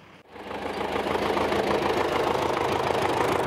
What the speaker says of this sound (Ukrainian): Дорогою вчитель зустрічає трактор.